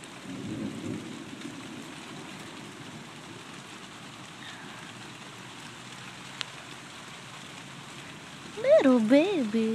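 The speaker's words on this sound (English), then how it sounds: "It's raining." Rain falls steadily outside a window with a soft, even patter throughout, and a cat meows close by near the end.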